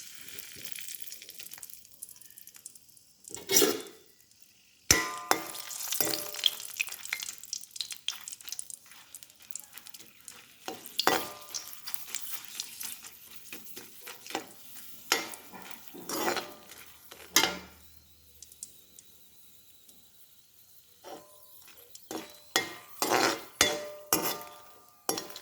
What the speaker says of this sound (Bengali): প্রথমে আমি শুকনা মরিচটা ভেজে নেব।